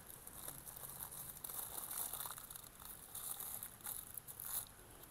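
Plastic sheet crinkles and rustles in close, irregular bursts while wrapping a branch on a Taiwan waru bonsai, a soft continuous crackle with no talk.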